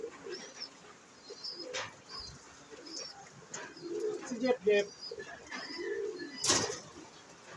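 Low pigeon coos repeat through the clip alongside thin chirps in a pigeon loft, with a person speaking briefly nearby.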